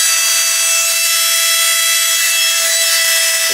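Suction fan of a JJX-TECH remote-controlled wall climber car whirring steadily and loudly at close range with a constant high tone, no speech.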